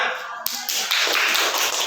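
A classroom of students breaks into clapping for a correct answer, a sudden onset of close, busy hand claps that continue evenly to the end.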